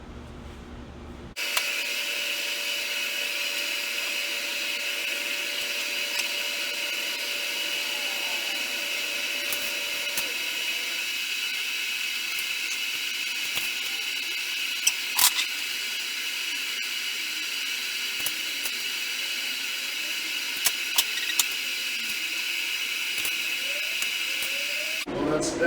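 A TIG welder tacks steel square tube desk legs, giving a steady, even hiss that starts abruptly and holds for over twenty seconds, broken only by a few faint clicks.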